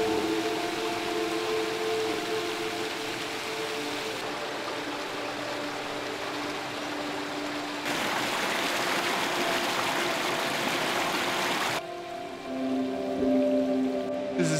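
A forest river rushes over rocks and small cascades as a steady, broadband roar of flowing water, continuous and fairly close, with faint tonal background sounds and no talking.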